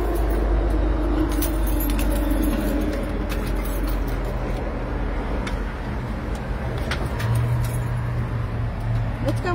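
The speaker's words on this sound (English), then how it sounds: "grab my keys." Keys jangle as a man grabs them while heading into his house, the metallic clinks sitting under steady low road or car rumble and occasional bird coos outdoors.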